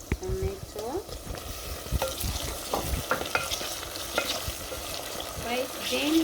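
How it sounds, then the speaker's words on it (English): Chopped tomato goes into a hot pan for a dish of white cannellini beans, with soft sizzling, scattered scrapes and clinks of stirring throughout, fairly quiet and close. "Let's add in our tomato."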